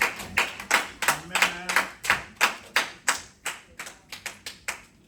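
A church congregation applauding the Lord in a steady, rhythmic round of clapping, about two to three claps a second, close and loud, with voices faintly underneath.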